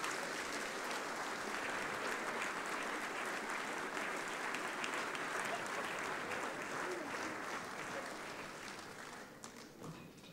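A crowd at a civic New Year's reception claps for a dance school act, sustained full applause holding steady before easing off slightly toward the end.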